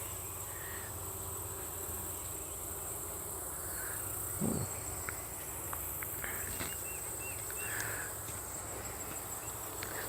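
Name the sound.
bees in a beehive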